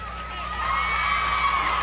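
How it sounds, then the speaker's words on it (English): Crowd in the stands at a high school football game between the Kecoughtan Warriors and Hampton Crabbers, a sustained roar of cheering and whooping from many voices, loud and fairly close, swelling slightly through the moment. "the crowd is enjoying this game"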